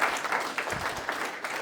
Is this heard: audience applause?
yes